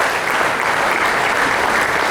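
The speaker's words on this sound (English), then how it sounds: "please give her a lovely applause" Audience at a memorial gathering applauding an elderly woman brought in by wheelchair, a loud, dense burst of clapping that stays steady and close with a light crowd murmur underneath.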